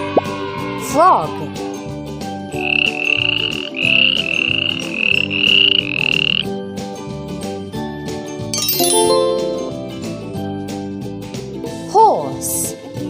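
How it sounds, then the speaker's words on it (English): A cartoon frog croaks in a children's animal matching video game, with bubbly plops, tinkling chimes and bright game music around it. Short electronic effects punctuate the steady background tune. "Frog."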